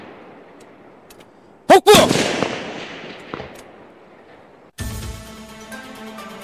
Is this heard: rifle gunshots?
yes